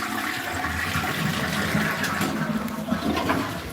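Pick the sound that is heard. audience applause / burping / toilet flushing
toilet flushing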